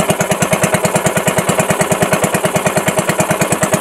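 A small engine runs close and steady, its fast, even chugging pulse continuing without a break and with no talking.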